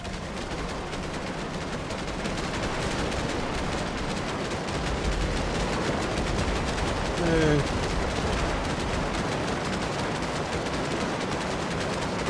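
Sustained machine-gun fire in the Cepheus Protocol strategy game: a dense, unbroken roar of rapid shots that holds steady for many seconds at a fairly loud level, with no clear pauses.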